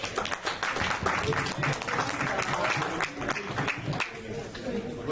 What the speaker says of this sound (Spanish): Aplaudan porque es alumna.